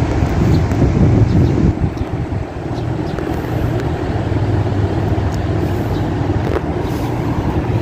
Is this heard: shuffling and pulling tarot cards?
no